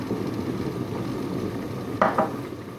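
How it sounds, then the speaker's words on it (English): Boal fish curry in a pot being stirred, with a low simmering bubble throughout and a couple of brief spoon scrapes against the pot near the end, close and moderately loud. "I'm going to give this a stir again"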